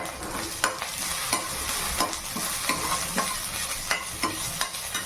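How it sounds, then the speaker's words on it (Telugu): Ginger garlic paste sizzling and frying in a pan for paneer bhurji while a spoon stirs it, steady close hiss broken by regular scraping strokes about every half second. "అల్లం వెల్లుల్లి పేస్ట్ చేసిన తర్వాత కొంచెం కలపండి వెంటనే"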